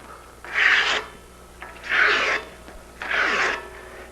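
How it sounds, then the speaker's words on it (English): Three rhythmic strokes of coarse 80 or 100 grit emery cloth strip sanding beneath a steel bicycle frame lug edge, each rasping pass close and loud with short pauses between, no talking. "grab a piece of 80 or 100 grit emery cloth strip and just sand underneath the edge like that"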